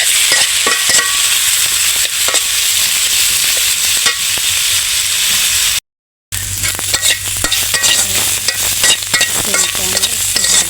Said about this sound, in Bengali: তো এই যে দেখতেছেন সিম ভাজা নিচ্ছি